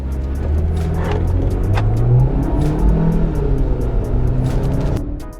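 A GAC GS3 Emzoom SUV with a 1.5-litre turbocharged engine accelerates at full throttle on a short handling course, its engine revving up in a steady, rising drone close by, then easing near the end.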